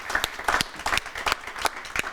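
A crowd claps in thanks for Board of Elections workers at an early-voting event, steady applause with distinct sharp claps rising and falling, fairly close and without speech over it.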